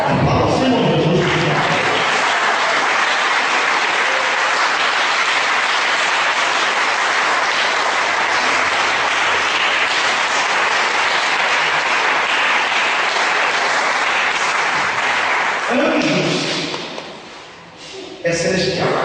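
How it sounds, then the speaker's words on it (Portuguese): A church congregation applauding, a dense, loud wash of clapping that fills the space for about fifteen seconds before thinning out, with voices heard at the start and end. "Aplauda o Senhor Jesus."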